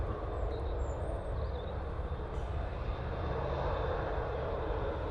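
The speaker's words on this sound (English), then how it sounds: "we do have a prop coming in" An ATR turboprop plane arrives at Manchester Airport, a steady, moderately distant engine drone and rumble that holds evenly throughout, with no talking.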